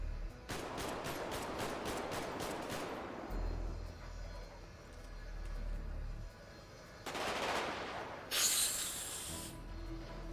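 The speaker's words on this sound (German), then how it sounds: "Ich schieße in die Luft." Rapid bursts of automatic gunfire fired into the air in a GTA roleplay game, a quick volley at the start followed by a second loud burst later, with low engine-like rumble between.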